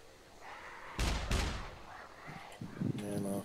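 Gunfire in the survival video game SCUM: two sharp, loud shots in quick succession, followed by quieter clattering and rumbling game sounds.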